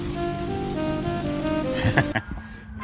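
Steady rain drumming on a car while driving, a continuous wash of patter with a low engine hum, ending in a few knocks as the sound cuts off.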